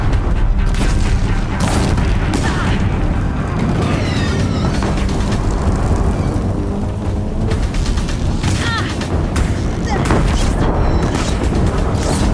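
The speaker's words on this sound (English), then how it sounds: "If the Deathbringers keep firing, this bridge will go" Deathbringer machines in Horizon Zero Dawn Complete Edition fire on a bridge in a loud, sustained barrage of booming blasts and rapid gunfire that fills the whole stretch with dense, heavy battle noise.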